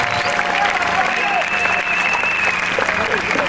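Audience applause rings out continuously at an award ceremony closing, dense and loud throughout, with a voice speaking over the clapping.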